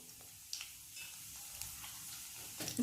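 Mustard seeds, urad dal, chana dal and peanuts fry in hot oil for a vermicelli upma tempering, a faint, soft sizzle broken by light crackles and the scrape of stirring.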